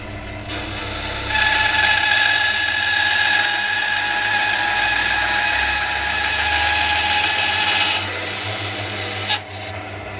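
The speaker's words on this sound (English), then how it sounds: "I've set the bandsaw at around about 1mm, and I'll give this a cut" Bandsaw slicing 1mm wood veneers for a guitar pickup: a loud, steady whining hum with a rasping cut that runs for several seconds, then the blade spins on after the cut ends. No one speaks.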